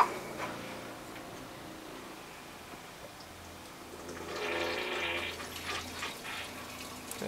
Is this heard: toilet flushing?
yes